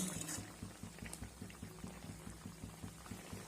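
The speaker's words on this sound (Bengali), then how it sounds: "আমি এই টকটা আবারও মিনিট 4 মতো ফুটিয়ে নিয়েছি।" A sweet-sour prawn curry bubbling in a pot, making a soft, steady patter of boiling bubbles with a regular rhythm. It is fairly quiet and plays alone.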